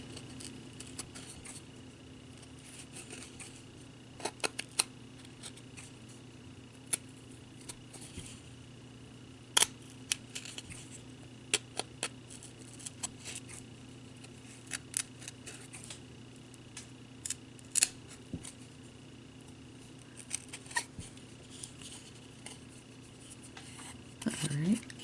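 Teflon scissors snip through sparkly ornament material made from a large Christmas window sticker, giving faint, scattered clicks and short rubbing cuts across a steady low hum.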